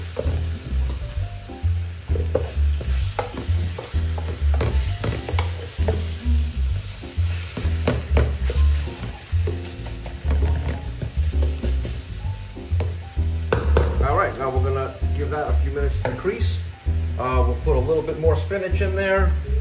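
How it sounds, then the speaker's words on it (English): Spinach with onions and garlic is stirred in a frying pan, giving a continuous close sizzle broken by repeated scraping and squishing stir strokes, while a person talks over it. "we're going to mix this to get the onions into the spinach"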